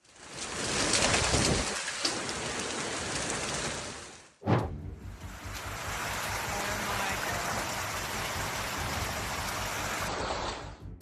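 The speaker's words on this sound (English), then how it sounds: "The storm with strong winds, heavy rain, and hail attacked Jonesboro, Arkansas" A storm with strong winds, heavy rain and hail in Jonesboro, Arkansas, a dense continuous roar of downpour that briefly cuts out, then resumes steady and loud.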